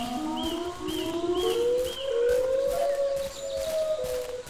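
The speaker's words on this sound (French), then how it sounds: "J'ai entendu une étrange sirène qui m'appelait à la distance." An eerie, wavering siren call sounds in the Siren Head: Resurrection horror game, with long gliding tones rising and falling and overlapping loudly against a forest ambience.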